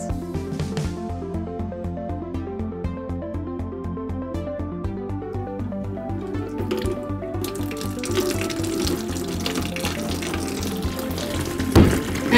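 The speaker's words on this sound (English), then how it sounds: "Let's turn on the water and see what happens." Water runs into a tank and flows through tubes, a steady splashing trickle over a tonal background, getting busier toward the end.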